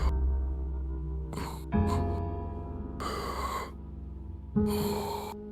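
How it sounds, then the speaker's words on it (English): Breathing effect from a tabletop horror role-playing game session: a few loud, airy gasping breaths in separate bursts over a low steady hum, with no talking. "Yeah, the breathing sound."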